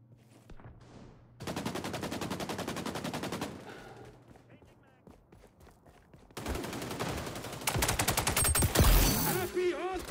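Rapid automatic turret fire in the XDefiant shooter during a team deathmatch on the Liberty map, sustained loud bursts with a pause mid-way, then heavier overlapping gunfire and explosions near the end.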